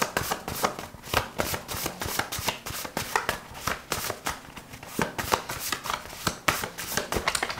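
Tarot cards being shuffled by hand, a continuous rapid riffle of crisp card flicks and taps with slight surges, close and moderately loud, with no talking.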